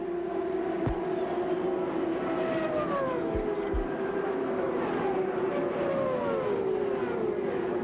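CART Indy-style race cars scream past at about 220 mph at the 1997 US 500, a dense sustained engine whine with several pitch-falling Doppler sweeps as cars pass one after another, loud and continuous.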